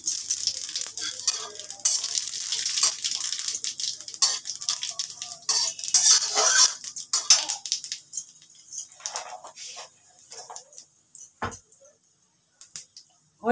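Whole spices including dried red chilli, nigella seeds and radhuni tempering fry in oil in a pot for radish dal, a busy crackling sizzle with stirring clinks that thins out and grows sparse toward the end.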